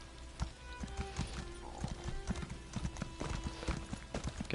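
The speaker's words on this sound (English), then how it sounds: "Alright, now I've got my steed." A horse's hooves clip-clop at a steady trotting rhythm in The Elder Scrolls video game, moderately close and fairly quiet, with no talk over them.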